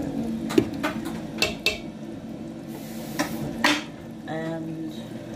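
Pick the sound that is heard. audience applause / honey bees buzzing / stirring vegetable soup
stirring vegetable soup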